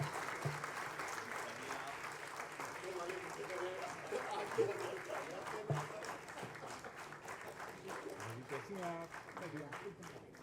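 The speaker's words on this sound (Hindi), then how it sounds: "सबसे निवेदन है कि जोरदार तालियों से सभी का स्वागत किया जाए।" Audience applause fills an opening session of a literature festival in Hyderabad, a steady, sustained clapping from a crowd welcoming guests to the stage, moderately faint and continuous throughout.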